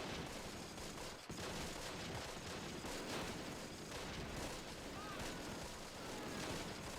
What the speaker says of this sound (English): All I can really do is let this firefight play out